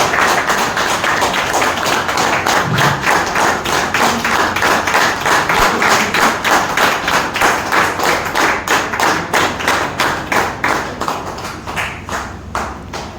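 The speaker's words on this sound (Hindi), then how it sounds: "अपने स्थान पर खड़े होकर जोरदार तालियों के साथ में उनका स्वागत किया जाए" An audience at an anniversary celebration in a Moradabad cafe claps in a steady rhythmic unison to welcome Shri Yashpal Saini, loud and close, continuing evenly for the whole stretch.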